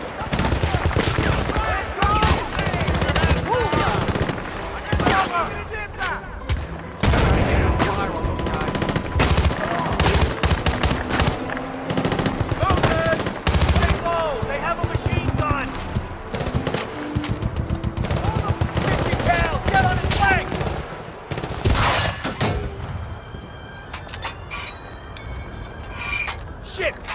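Machine gun fire in the Xbox game Battlefield Bad Company 2, with dense, loud, continuous bursts of automatic gunfire and scattered shots running throughout, mixed with shouting voices and battle noise.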